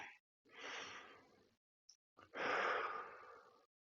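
Deep breathing during a balance exercise in a hip strength and stability workout for golfers: two long, loud exhalations separated by a short pause, close up, with no talk.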